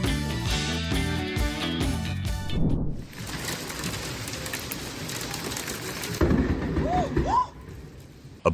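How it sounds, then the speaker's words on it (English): Lightning strikes close to a residential area in Saratoga Springs, bringing a loud rushing crackle of rain and thunder that holds for several seconds before fading. Music plays beforehand. "A bolt of lightning tore across the sky in Saratoga Springs, flashing right next to a residential area."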